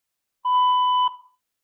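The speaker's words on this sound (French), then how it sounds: "Un bip retentira pour signaler la fin de la session" A single steady electronic beep signalling the end of a session, clear and fairly loud, holding for about two-thirds of a second before cutting off with a short fading tail.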